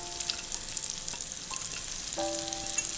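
Garlic, green chili, carrot and cabbage sautéing over a high flame for a hot and spicy chicken soup, a dense continuous sizzle close up with a few brief clinks of a spoon against the pan.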